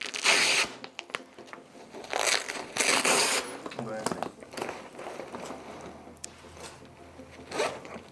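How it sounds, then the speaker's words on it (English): Velcro flaps rip open on a Cerberus Dual-Ply Húsafell sandbag, giving loud, close tearing bursts that rise and fade over several seconds, with a voice faintly present underneath. "Open our Velcro flaps."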